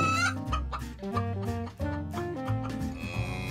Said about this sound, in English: chicken finding the grain